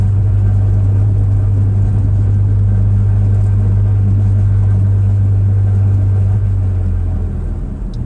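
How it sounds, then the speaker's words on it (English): A loud, steady low car engine rumble through a throaty muffler, droning continuously and easing off slightly at the very end. "Ignore my muffler, that's just my car's muffler."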